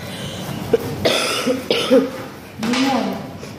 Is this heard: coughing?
yes